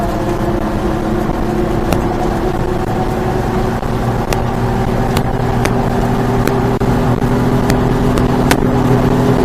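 A Suzuki mini truck engine runs hard during a mini-truck race, a loud steady droning hum with a few sharp clicks, close and continuous.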